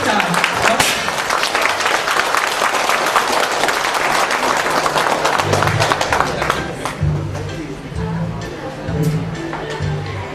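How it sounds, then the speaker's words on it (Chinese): An audience claps at a celebration reception for a new joint-venture company in Vietnam. Loud, sustained applause fills the first half, then fades as a voice speaks over a quieter room. "请各位鼓掌。"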